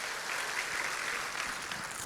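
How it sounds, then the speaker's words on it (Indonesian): A church congregation clapping together during a service, a soft, even wash of many hands heard at a distance for about two seconds. "Tepuk tangan Tuhan Yesus."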